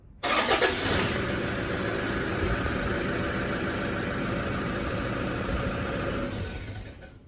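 A car's engine cranks briefly, catches and settles into a loud, steady idle close by, holding for several seconds before easing slightly near the end; no one speaks.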